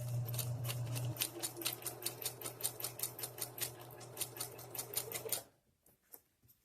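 A sewing machine stitches fabric for DIY shorts-skirt, running at a steady, moderate pace in a rapid rhythmic chatter for about five seconds, then stopping abruptly, followed by a couple of faint clicks.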